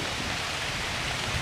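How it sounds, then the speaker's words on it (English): Heavy rain pouring down in a jungle in Papua New Guinea at night during a thunderstorm, a dense, steady hiss that fills the whole clip with no pauses. "I've had a lot of rain, but this is the first one with a lot of thunder."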